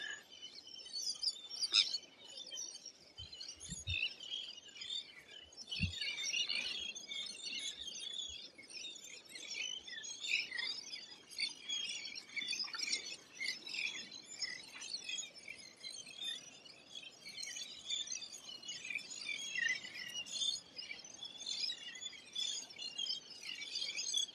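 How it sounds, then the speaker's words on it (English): A large flock of thousands of birds on a beach, calling continuously at a steady level as a dense chorus of high chirps, with a few low thumps early on. "thousands of birds."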